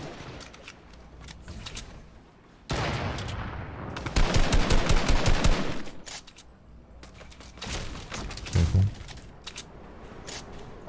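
Bursts of automatic gunfire in a Fortnite Arena match, rapid rattling volleys of varying loudness, some near and heavy, others lighter and more distant, with game ambience in between.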